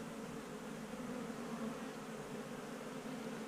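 Honey bees humming in a new beehive, a steady, dense buzz that holds evenly throughout without pauses.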